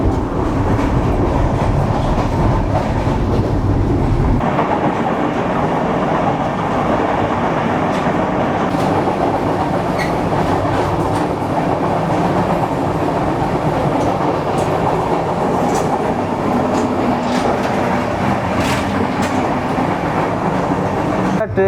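Inside an AC cabin coach of a passenger train from Panchagarh to Khulna, a loud, continuous rumble of the running train fills the air, with rhythmic wheel clatter and occasional rattles throughout.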